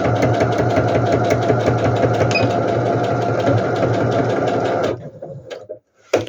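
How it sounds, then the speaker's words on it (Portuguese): A sewing machine runs steadily for about five seconds, stitching a seam on a geometric-print fabric bag, then stops, leaving a few faint handling clicks. "E inicio a costura com um retrocesso. E vou até o final."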